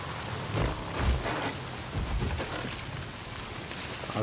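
Rainstorm in the video game Days Gone: steady heavy rain patters on surfaces while low rolls of thunder swell and fade several times underneath, filling the scene without any talking.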